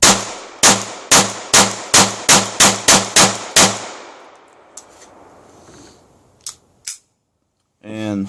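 A Ruger SR22 pistol fired ten times in a steady, fairly quick string, each sharp crack loud and close, followed by fainter metallic clicks of the slide and magazine and a brief voice at the end.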